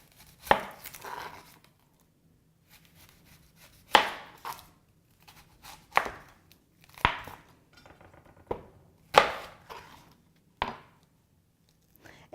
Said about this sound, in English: I'm going to be using our manual food processor so that I can get the pieces nice and small